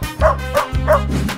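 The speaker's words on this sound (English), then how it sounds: "Dog," A cartoon-style dog barks three times in quick succession in a playful animal-song setting, each bark loud, close and clear, with a short pause between them.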